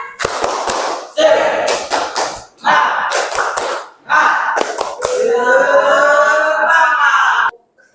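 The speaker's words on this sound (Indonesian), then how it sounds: "Oke, tepuk semangat." A classroom group performs a spirited rhythmic clap, sharp bursts of hand claps in a set pattern alternating with loud chanted voices, ending in a sustained shouted phrase before cutting off.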